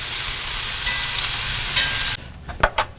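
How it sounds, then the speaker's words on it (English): Diced bacon rendering in a hot pan gives a loud, steady sizzle for about two seconds, then drops to a quieter crackle with a few sharp spits and pops. "we're gonna cook up some diced bacon in this pan"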